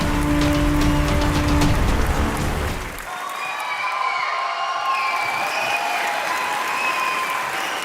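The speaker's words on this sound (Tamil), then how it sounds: "Ladies and gentlemen, உங்களுடைய பலத்த கரகோஷங்களுடன்" Loud audience applause fills the first few seconds, then fades to a softer background of scattered clapping and crowd noise.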